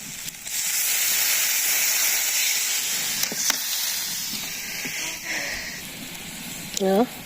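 Curry in a pot in a village kitchen comes to a boil after water is added, giving a steady loud hiss and bubbling throughout with a brief clatter near the end.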